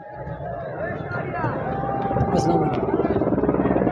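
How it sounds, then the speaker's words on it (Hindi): A helicopter flies over a street protest near D-Chowk in Islamabad, its rotor drone thickening into a steady rhythmic thudding over a dense crowd murmur. "ये हेलीकॉप्टर जी, ये पाकिस्तानी कौम का हेलीकॉप्टर"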